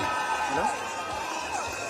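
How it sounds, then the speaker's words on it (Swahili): A crowd at an International Women's Day gathering at Tom Mboya University in Homa Bay cheers and whoops in a steady, lively wash of voices, with any clapping blurred into the noise. "Tuwapigie makofi, makofi, makofi"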